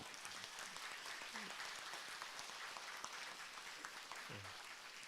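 Steady crowd applause at a Buddhist dharma assembly, a dense wash of clapping that continues throughout at an even level, with no talk over it.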